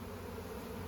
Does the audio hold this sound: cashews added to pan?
no